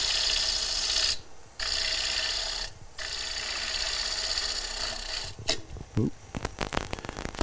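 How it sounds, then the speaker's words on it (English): A gouge shear cuts the side grain of an ambrosia maple bowl spinning on a wood lathe, producing a steady close rasping hiss broken by two short pauses, then scattered scraping knocks at the end. "we're going to shear scrape, or shear cut, sorry, with the gouge"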